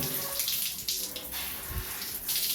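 Running water rinses a freshly butchered rabbit carcass on a Jamaican rabbit farm, a steady soft splashing flow like a tap, heard alone at low volume.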